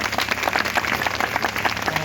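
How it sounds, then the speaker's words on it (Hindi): Crowd clapping at an outdoor political rally in a village in Bihar, steady and fairly loud with dense overlapping claps for about two seconds. "ताली बजाइए।"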